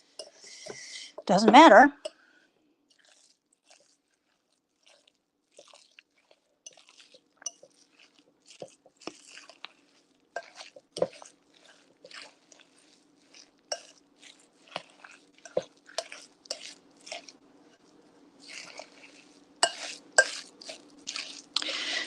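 Ground meat for shepherd's pie is stirred in a bowl: sparse soft squelches and light utensil clicks against the dish, with a brief voice near the start and quiet stretches between.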